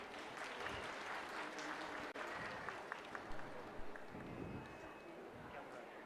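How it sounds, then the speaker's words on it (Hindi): Applause from an audience at the opening ceremony of the Manali Winter Carnival, a dense spread of clapping mixed with crowd noise and some voices, moderately loud and steady throughout. "आप सभी से आग्रह तालियों के लिए रहेगा।"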